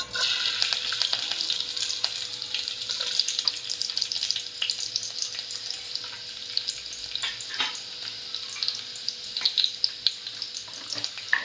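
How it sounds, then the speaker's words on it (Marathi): Chopped onion added to hot oil for a dried small-fish curry, giving a continuous bright sizzle up close with crackling pops and occasional stirring clatter, steady throughout and with no voices. "आपण तेल टाकून घेऊया कांदा टाकून घेऊया आपण"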